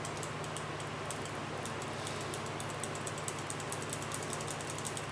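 Landing gear on an F-105 model retracting, a steady low motor drone with a quick regular ticking of gears growing slightly more distinct toward the end.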